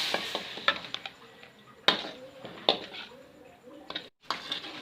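Water goes into a pan of sizzling stir-fried spices for a shrimp mie ayam. A crackling sizzle sits under sharp metallic clanks of a utensil scraping and tapping the pan, with a brief near-silent gap near the end.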